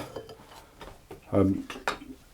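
A custard-tart egg mixture is worked through a metal sieve, giving a few light clinks and scrapes of utensil against mesh and bowl, with one brief louder rattle.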